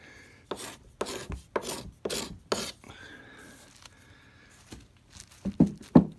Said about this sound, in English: glue is gumming up the sandpaper